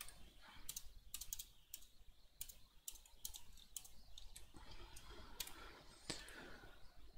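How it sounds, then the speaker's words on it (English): Irregular clicking of fingers typing on a computer keyboard, close but quiet, with uneven bursts of keystrokes and no talking. "I'm going to use the keyboard. I'm much more used to using the keyboard."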